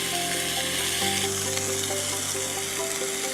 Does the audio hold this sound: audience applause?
no